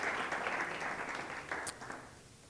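A room audience at a university library lecture gives a round of applause, a soft, even patter of many hands that gradually thins and fades, heard from a distance.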